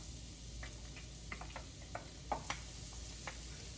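Battered Monte Cristo pieces fry in hot oil, a faint, steady sizzle dotted with small crackles and pops, heard alone without talk.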